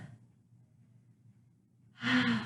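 A deep inhaled breath then a strong, audible exhale during a yoga stretch in a triangle-pose sequence. Quiet low breathing gives way to a loud, breathy sigh near the end, heard close and alone.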